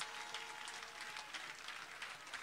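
A church congregation claps together during a thanksgiving worship service, a faint, steady wash of many hands applauding without pause for the whole stretch.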